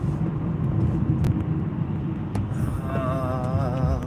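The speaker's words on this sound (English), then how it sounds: "Oh boy, there's some traffic." Steady road traffic rumbles along as cars pass close by, a continuous low engine and tyre drone with a brief wavering whine near the end.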